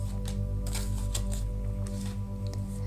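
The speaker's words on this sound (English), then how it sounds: "Let's just shuffle all the cards." Tarot cards shuffled by hand, a series of soft papery riffling bursts repeating irregularly, close and fairly quiet over a steady low background hum, no talking.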